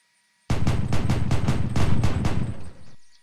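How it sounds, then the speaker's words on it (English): Rapid automatic gunfire from a machine gun in the Unturned video game, one full magazine emptied in a single sustained burst of about a dozen loud close shots over two and a half seconds, followed by a short fading tail. "Empty a full mag in there."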